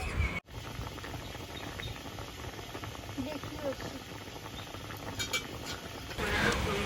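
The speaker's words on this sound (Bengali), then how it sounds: "তো শুক্তোটা সুন্দর করে ফুটে গেছে, দেখতেই পাচ্ছ তোমরা।" Shukto, a Bengali vegetable curry with milk added, bubbling and simmering steadily in a pan, a soft continuous boil with faint hiss and light popping throughout.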